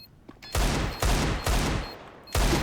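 Four heavy bursts of video game gunfire, each a loud sustained rattle, separated by short gaps; close and dominant, with no talking.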